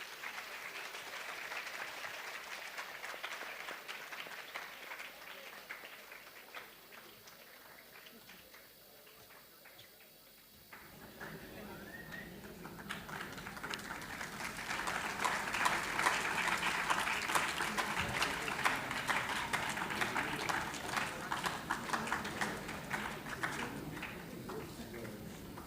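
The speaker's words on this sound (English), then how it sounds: "Kindly give them a round of applause." Audience applause for a guest speaker at a university public lecture, starting softly, swelling into a full round of clapping from a large hall and sustaining; a speaker's voice is heard before it builds.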